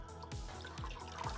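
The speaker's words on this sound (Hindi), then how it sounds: "ऊपर से थोड़ा पानी" Water poured over freshly washed basil leaves trickles and drips steadily and closely, with a few distinct drops falling at regular intervals.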